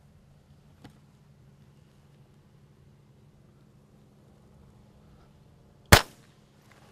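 A single sharp, loud crack from a .22 pistol fired at an aspirin target, preceded by a faint click and otherwise near-silent surroundings.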